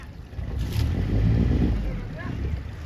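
Outboard engine of a small fishing motorboat at sea, a steady low drone that swells slightly, heard from moderately close with wind and water noise around it.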